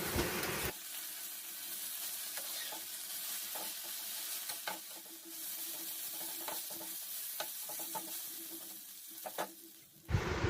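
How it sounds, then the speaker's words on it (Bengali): Chow mein noodles coated in tomato sauce frying in a pan, a continuous close sizzle punctuated by frequent clicking stirs and scrapes of a spatula throughout. "এটাকে দিয়ে ভালো করে মাখিয়ে নিয়ে ভেজে নেবেন।"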